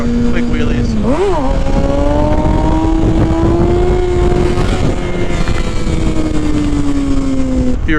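A group of motorcycles rides together while the lead rider does quick wheelies. A loud, close engine drone swoops in pitch briefly and then holds steady under wind rush.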